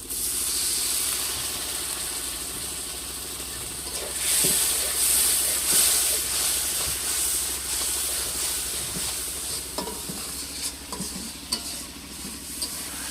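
Shrimp and red amaranth curry with spices hisses and sizzles in a pan right after a splash of water goes in, with stirring scrapes and occasional clinks over a steady bubbling hiss.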